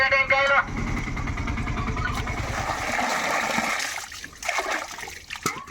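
Water splashes and sloshes as fish pieces are rinsed by hand, with someone talking over the washing.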